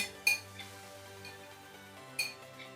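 Roasted pumpkin tipped from a metal baking tray into a bowl while making pumpkin cream soup; two quick clinking knocks about two seconds apart over a faint steady hum, no talking.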